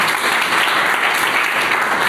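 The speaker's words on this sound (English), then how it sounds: "Clap everyone for her." Students at a school in Dumri clap together in a dense, steady round of applause that stays loud and even from start to finish.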